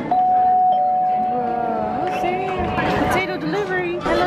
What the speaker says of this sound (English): Ring the bell. Push it. Push harder.